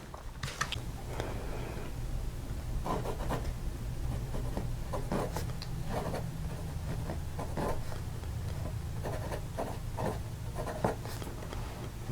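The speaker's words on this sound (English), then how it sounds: "You can hear the nib on the paper, but as I said, I'm writing on a wooden top, and that seems to magnify the sound." Steel nib of a Wing Sung 3003 fountain pen writing on paper laid over a wooden tabletop, giving a series of short scratchy strokes at close range, amplified by the hard wood beneath.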